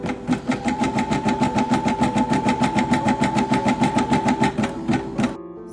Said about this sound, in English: I'm going to embroider this eye with the sparse thread.